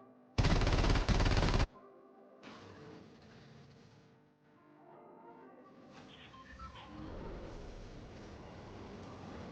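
Loud burst of automatic gunfire in a battle video game, lasting about a second near the start, followed by quieter game sounds and ambience.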